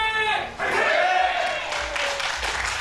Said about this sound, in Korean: 응원전에서도 지고 싶지 않다라는 마음에 아주 큰 소리로 김가영 파이팅을 외쳤습니다